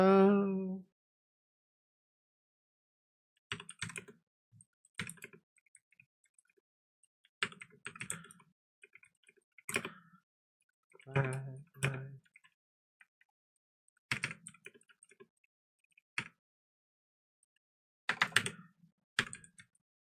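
Short bursts of keystrokes tap and clack on a computer keyboard in scattered clusters with quiet gaps between them, close and fairly soft, after a brief voice at the very start.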